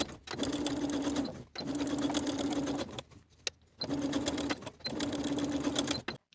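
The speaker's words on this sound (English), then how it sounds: "stitch along that pocket facing, stitching it to the seam allowance with about 1/8 inch seam allowance" A sewing machine stitches pocket lining to the seam allowance on wide-leg pants, running in four steady, fast whirring bursts of about a second each, separated by brief pauses, close and clear with no talking.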